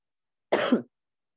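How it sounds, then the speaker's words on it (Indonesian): A single short cough with a rough throat-clearing edge from a teacher during a chemistry lesson, close and isolated, surrounded by silence. "Mohon maaf saya agak batuk."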